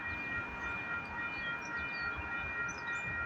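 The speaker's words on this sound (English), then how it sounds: "we got a CP westbound train coming" A westbound CP freight train rumbles steadily past at close range, a loud continuous roar of rolling wheels and rail noise with no voices over it.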